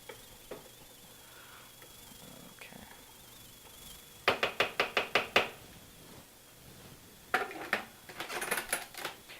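A food processor pulses a shrimp mixture in two bursts of short, sharp, rhythmic chops, about half a dozen in quick succession, then a second busier run after a quiet pause.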